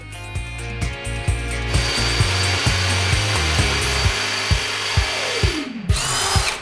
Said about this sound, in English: we're using a hammer drill, masonry drill bits, and really long screws that are meant for brick